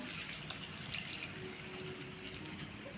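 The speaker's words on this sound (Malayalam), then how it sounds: "പിന്നെ ആവശ്യത്തിന് വെള്ളം ഞാൻ ചേർത്തു" Water being poured into a pot of sliced bitter gourd for Kerala-style pavakka mezhukkupuratti: a faint, steady, continuous pour lasting a few seconds, with no talking.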